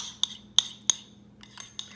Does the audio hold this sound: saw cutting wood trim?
no